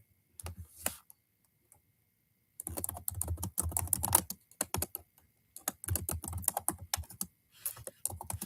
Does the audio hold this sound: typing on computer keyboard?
yes